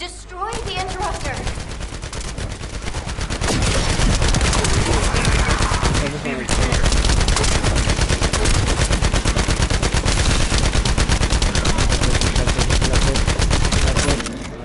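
Rapid, continuous automatic weapon fire in the video game The First Descendant, loud and dense with sustained bursts over nearly the whole stretch, briefly easing once before resuming, with a voice speaking over it.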